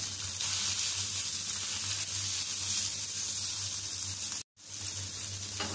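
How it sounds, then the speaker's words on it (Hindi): Boiled shredded chicken sautéing in a hot pan, a steady loud sizzle and hiss that runs continuously, briefly cut by a moment of silence before resuming. "20 सेकंड्स के बाद इसमें बॉइल्ड रेशा चिकन डालेंगे। दो मिनट के लिए सौते करेंगे।"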